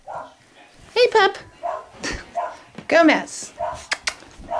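Two dogs playing at home give yips, whimpers and short barks in quick bursts close by, while a person talks and calls to them throughout.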